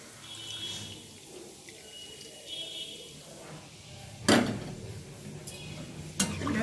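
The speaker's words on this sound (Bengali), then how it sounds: "এখন আমি গরম জল দিয়ে দেব তরকারিতে।" Hot water goes into a paneer curry cooking with chicken masala in a pan, a short splashing gush followed by a second brief pour. Quiet kitchen clatter and a low background hum come before and between the pours.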